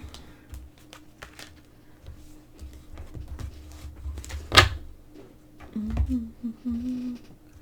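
Oracle and angel cards being shuffled by hand produce sparse light taps and soft clicking, close and fairly quiet, with a short burst of speech near the end.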